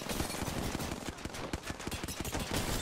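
Sustained automatic gunfire in Apex Legends, a fast, dense stream of shots packed closely together and continuing without a break.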